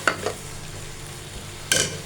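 Fenugreek fries for aloo matar methi, a continuous sizzle broken by two or three sharp scraping stirs of a spoon, close and fairly loud with no talk.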